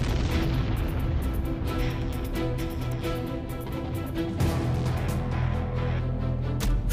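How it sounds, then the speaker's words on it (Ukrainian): Powerful explosion tearing through an apartment building in Kyiv on a quiet Sunday morning, a loud sustained roaring blast and rumble with crackling debris and bursts throughout, heavy and continuous from start to finish. "тишу недільного київського ранку несподівано розриває потужний вибух"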